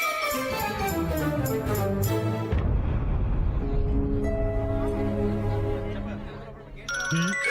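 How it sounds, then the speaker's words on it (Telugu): A mobile phone ringtone chimes in a bright repeating melodic pattern, breaks off into a dense stretch of film score and noise, then returns loud and near at the end, set in a Telugu movie scene. "ఫోన్ వస్తుంది, ఎత్తు"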